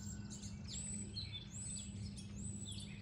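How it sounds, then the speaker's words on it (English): Birds chirp and sing in the early morning, with repeated high tweets and whistles over a steady low hum, fairly faint and with no talking. "Do you hear them? Birds out, already up at work, doing the things that they got to do for the day."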